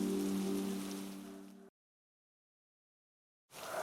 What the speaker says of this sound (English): A couple nights later, it started raining heavily.